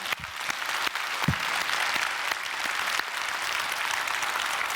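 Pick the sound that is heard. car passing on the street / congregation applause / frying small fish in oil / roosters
congregation applause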